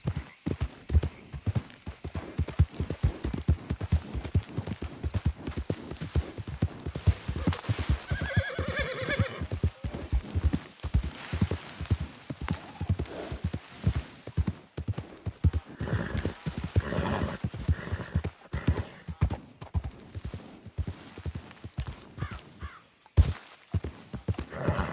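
A horse gallops steadily in the Red Dead Redemption 2 video game, its hooves pounding in a continuous rapid rhythm for the whole stretch, with a whinny breaking through partway and brief talk over the hoofbeats.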